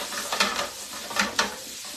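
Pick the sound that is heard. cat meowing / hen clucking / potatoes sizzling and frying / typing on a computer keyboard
potatoes sizzling and frying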